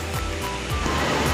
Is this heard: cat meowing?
no